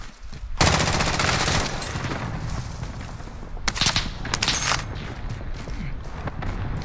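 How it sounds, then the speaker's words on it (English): Rapid automatic gunfire in a shooter video game, a dense, loud sustained burst with sharper volleys partway through, with no talk over it. "Don, shoot that guy"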